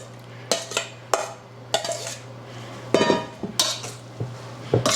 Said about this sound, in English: the apples have been strained, and now they're going to be folded into the mixture